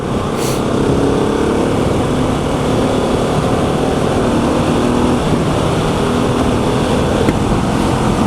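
A Husqvarna 701 ABS motorcycle being ridden, its single engine droning steadily and loud throughout with wind rush, no voices heard.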